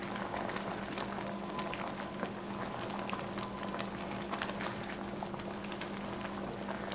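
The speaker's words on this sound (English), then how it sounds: "Now I'm going to let that cook a minute" Peach cobbler filling with sugar cooking in a pot, a continuous close bubbling simmer with soft popping and sizzling at an even level, no voices present.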